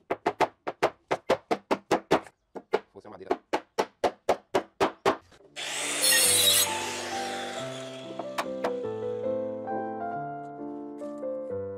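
Hammer tapping small 18x27 nails into a wooden board, a quick run of sharp, evenly spaced knocks, a brief pause, then more taps, followed by a loud clattering crash and ringing metallic tones that fade out.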